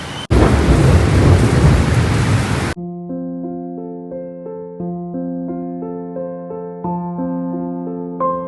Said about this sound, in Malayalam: അപ്പോൾ ഇവിടെ നല്ല മഴയാട്ടോ